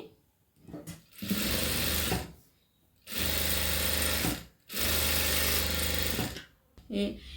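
A sewing machine runs three separate stitching bursts along garment lining, each a steady loud whir of a second or two with short quiet gaps between, and brief handling noises at the start and end.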